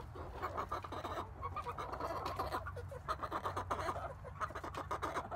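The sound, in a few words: chicks chattering in a chicken coop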